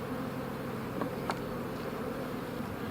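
Dense, continuous buzzing of many honey bees, steady and close, with a couple of brief sharper sounds partway through.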